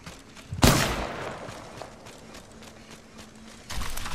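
A single sharp gunshot cracks out near the start in Apex Legends, followed by a low background rumble and a softer burst of activity near the end.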